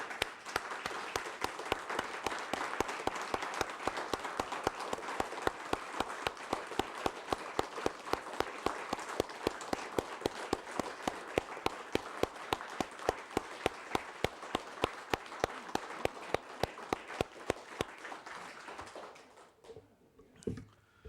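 Sustained applause from councillors at a civic honours ceremony, dense steady clapping that holds for most of the stretch before thinning out and stopping near the end.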